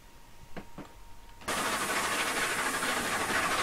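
LNER A4 Bittern steam locomotive in Train Simulator running on the Wycombe branch near Bourne End: a quiet rumble with two faint puffs, then a loud, steady roaring hiss of steam that holds to the end.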